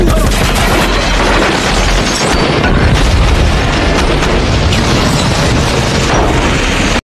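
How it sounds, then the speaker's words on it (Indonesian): Gunfire and explosions roar through a film gunfight between two groups inside a house in Mexico, with dense, continuous loud bursts, booms and rapid shots filling the whole clip at close range. "terjadilah adu tembak di antara 2 kelompok tersebut"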